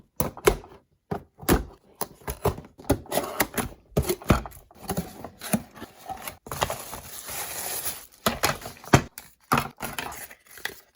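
Packing tape is ripped off a toy playset box in quick, rasping, crackly bursts with short gaps, close and fairly loud, with no talking.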